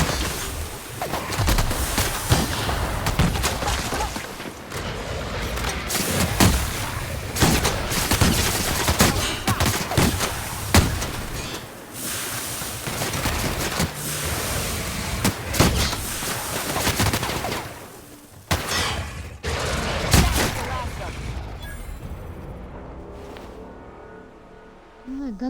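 Sustained bursts of rapid gunfire from a gun in a space-and-dinosaur video game, loud and close, with dense volleys continuing for most of the stretch before tapering into quieter engine-like hums near the end.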